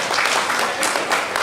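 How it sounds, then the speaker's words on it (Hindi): An audience applauds at a numerology workshop at the Constitution Club in Delhi, a short burst of dense, steady clapping at close range that swells slightly near the end. "तो सरदार जी के लिए भी हमारे तालियां लगा दो"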